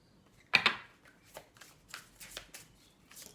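Oracle cards are shuffled in one loud riffling burst up close, followed by several softer, scattered card flicks and slides in a quiet room.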